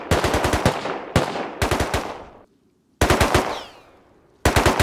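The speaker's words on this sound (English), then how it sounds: "He's shooting at someone." Automatic gunfire in a video game, heard as several loud, rapid bursts separated by short pauses, each trailing into a decaying echo, with no voices over it.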